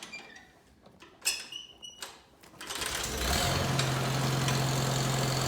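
Farmall Cub tractor engine starting after a few scattered mechanical clicks and knocks, then settling into a steady, loud, rough idle with a constant low drone for the rest of the clip.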